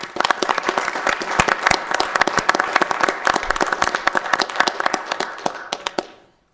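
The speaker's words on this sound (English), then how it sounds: "So as a board, we'd like to give you a round of applause and thank you." Audience at a Diversion Board of Authority meeting applauds for about six seconds, a steady close burst of many hands clapping that cuts off abruptly at the end.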